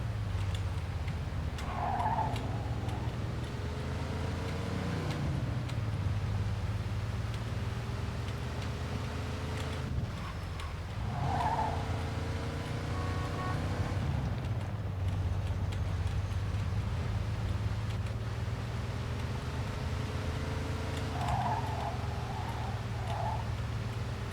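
A car races through a Mafia 2 city, engine droning steadily with rising and falling gear sweeps and occasional tire squeals, continuous and close throughout.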